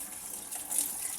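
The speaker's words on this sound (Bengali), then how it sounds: "মসুরি এবং খেসারি দুই রকমের ডাল আমি ধুয়ে নিচ্ছি।" Masoor and khesari lentils being washed in water, a steady running splash from a tap with a brief swell of gushing, close and alone without any voices.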